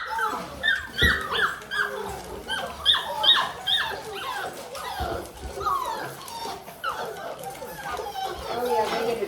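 Bullmastiff puppies whimper and yelp in rapid, overlapping bursts at a feeding, close by and fairly loud, with people talking underneath.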